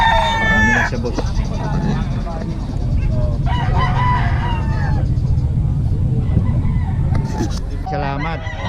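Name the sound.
rooster crowing, chickens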